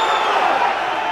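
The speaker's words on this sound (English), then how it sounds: "And the crowd are really getting in on it as well." Rugby stadium crowd at a Celtic Warriors versus Munster match, a continuous loud roar of cheering and singing voices filling the ground with no pauses.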